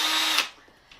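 A handheld power drill runs with a high whirring buzz for a split second and then cuts off. A faint, brief click follows in the quiet afterward.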